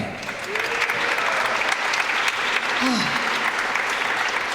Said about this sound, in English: A round of applause for Fei-Fei.